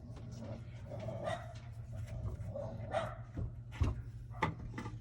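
A dog barks at a stray cat several times in short, irregular bursts, fairly distant and quiet, with a low steady hum underneath.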